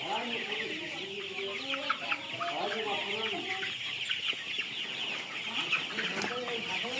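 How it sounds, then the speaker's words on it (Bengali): Tiger chickens clucking on a poultry farm in Jhenaidah, Bangladesh, with many birds chattering and squawking at once, a busy close flock with scattered sharp calls. "মুরগিগুলা কিন্তু আমি ঘুরে ঘুরে সব মুরগিগুলাই আপনাদেরকে দেখানোর চেষ্টা করছি"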